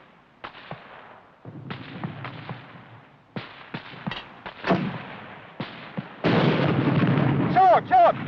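Mortar rounds and gunfire in a 1951 war battle scene, a series of sharp bangs and booming blasts spaced irregularly over a rumbling background, building to a dense roar of explosions with whistling near the end.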